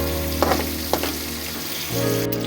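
Ridge gourd pieces frying in hot oil, a steady crackling sizzle with a few sharper pops and spatters, close and continuous.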